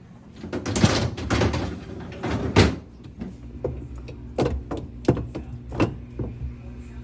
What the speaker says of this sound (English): So now we're gonna put the drawers back in here.